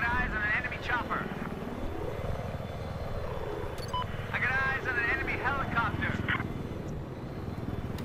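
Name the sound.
AH-1Z Viper attack helicopter in video game Battlefield 4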